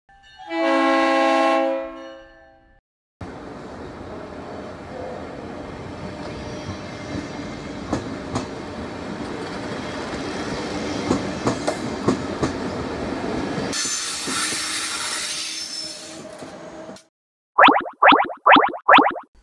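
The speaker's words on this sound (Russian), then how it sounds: "Это двухэтажный поезд" A double-decker train rumbling and clattering past with a steady roar, a horn-like tone at the start, and short repeated chimes at the end.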